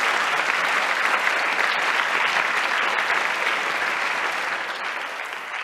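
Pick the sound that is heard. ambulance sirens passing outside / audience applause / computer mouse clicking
audience applause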